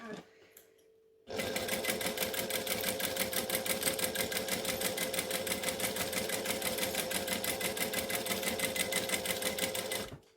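A sewing machine runs at steady speed stitching along the edge of a clear pouch, a close, even mechanical whir with rapid needle clatter starting after a short quiet moment and continuing alone.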